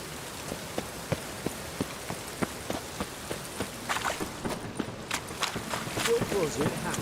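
Steady rain falls in The Witcher 3: Wild Hunt, a dense patter with sharp drips and splashes on surfaces throughout, getting a bit busier toward the end, with no voices over it.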